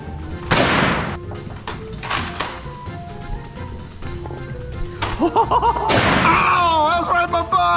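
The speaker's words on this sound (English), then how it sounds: "I'm gonna just shoot straight into the wall." A few sharp Nerf blaster shots fired into a wall during a blindfolded hide-and-seek Nerf tag game indoors, separate pops spaced apart, with excited voices and squeals around them.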